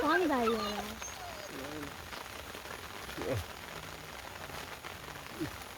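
Steady rain falls at night as a soft, even hiss across the whole stretch, while a cat meows close by and a voice murmurs faintly.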